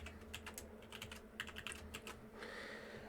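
Password keystrokes on a computer keyboard, a quick burst of faint, irregular clicks and taps with brief pauses, close by and on their own with no voices.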